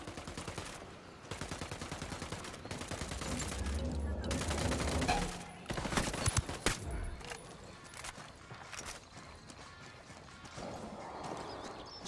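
Rapid gunfire in Ghost Recon Wildlands: a rattling automatic burst of close shots, then a few heavier isolated blasts, with someone speaking quietly over the fading battle ambience.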